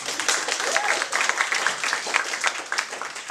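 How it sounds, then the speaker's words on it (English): A crowd at a design meetup applauds, with sustained clapping from many hands throughout and some voices mixed into the noise. "Oh, and extra applause, by the way."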